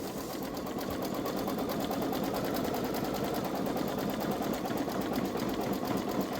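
A Babylock Solaris embroidery machine stitching the nostril of an eagle's beak on an in-the-hoop zippered bag, a dense continuous whirring of rapid needle strikes, close and unbroken.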